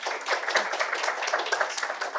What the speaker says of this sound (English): Why don't we give Peter a round of applause?